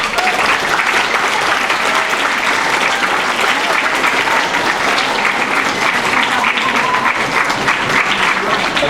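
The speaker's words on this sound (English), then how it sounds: "So kids, you're gonna give your parents a big round of applause." A large audience at a middle school winter concert applauds, a dense, loud, continuous roar of clapping that holds steady throughout with no break.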